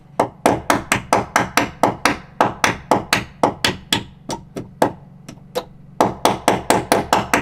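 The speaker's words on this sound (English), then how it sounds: "Ball peen hammer." A ball peen hammer strikes metal in a fast, steady rhythm of sharp ringing taps, pausing briefly near the end before resuming.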